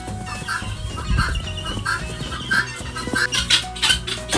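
Chickens clucking inside a coop during a heavy Wisconsin snowstorm, a series of repeated close clucks and calls from several birds over a steady low barn background.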